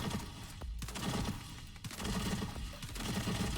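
Quick, repeated gunfire from The First Descendant pops steadily in a continuous rapid stream at moderate volume, with no voice over it.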